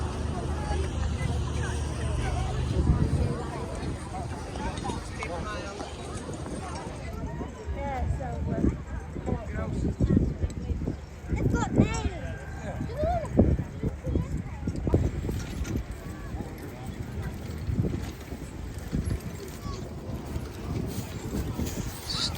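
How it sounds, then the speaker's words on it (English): Heavy horses' hooves clip-clop across a field at the Southwell ploughing match, uneven thuds sounding outdoors under wind noise, crowd babble and nearby talking. "Stunning horses."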